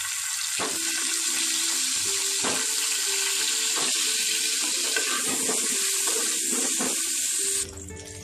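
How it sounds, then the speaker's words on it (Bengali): Potatoes frying in hot oil in a home kitchen, a steady loud hissing sizzle running the whole time with occasional crackles and spatters, close up, no voices. "আমি এবার এই তেলেই আমি আলুগুলোকে ভেজে নেব"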